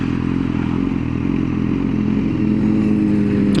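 Hyperbike motorcycle ridden at low speed in first gear, engine running with a loud steady low rumble and dense continuous engine drone, close and alone.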